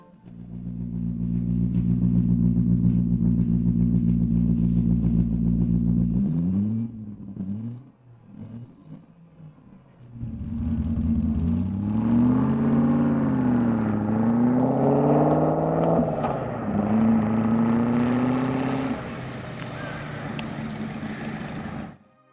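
A small homemade V8 motorcycle engine idles with a steady throbbing hum, cuts out briefly, then revs up and down repeatedly, loud and close.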